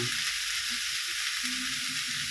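Chili powder and turmeric fry in a hot pan, producing a steady, close, continuous sizzle throughout.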